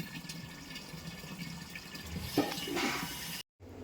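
Water pours steadily into containers with a continuous rushing and splashing that swells toward the end, then cuts off briefly before resuming.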